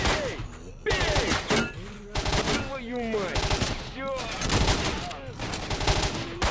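Gunfire in S.T.A.L.K.E.R.: Shadow of Chernobyl: repeated loud bursts of shots and rapid automatic fire in several clusters, close and punchy, with a voice breaking in between.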